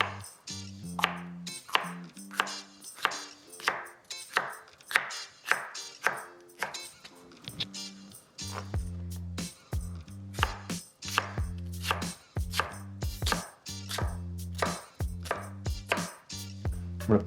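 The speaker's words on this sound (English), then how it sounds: "make it a little easier to chop up." Knife chopping vegetables on a cutting board for an arroz con pollo, a long run of crisp rhythmic blade strikes on wood, close and fairly loud, alone with no talk.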